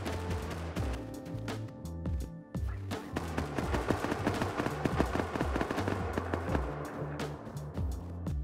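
Rapid bursts of automatic gunfire from a raid close by in the survival game Rust, dense, overlapping volleys and single shots crackling continuously throughout with no talk.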